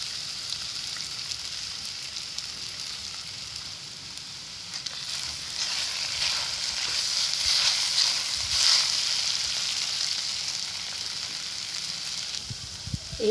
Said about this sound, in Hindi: एक मिनट के लिए हमने इसको अच्छी तरह फ्राई कर लिया है।